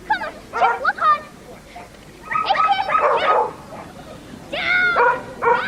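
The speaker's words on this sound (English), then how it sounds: "he'll bark all the way around the course" A working sheepdog barks repeatedly while running a dog agility course at a televised dog show, with high yips and bow-wows in several quick bursts and a commentator's voice talking throughout.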